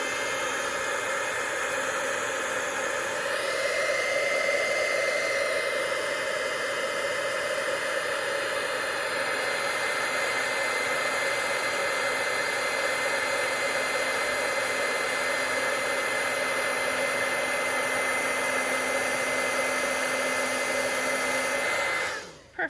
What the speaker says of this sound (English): we're just going to use our heat tool and heat this up really quickly